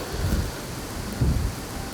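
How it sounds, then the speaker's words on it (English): Rain falling outdoors beside a bean field during an early-season archery deer hunt, a close steady hiss with two deep rumbling swells like distant thunder. "Unfortunately, it brought rain."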